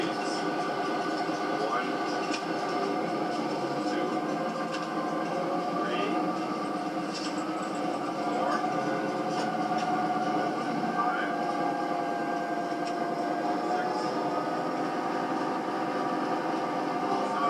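A train video plays a diesel locomotive engine humming and droning steadily at speed, with rail rumble and faint whistle-like tones throughout, heard from a distance as through a speaker.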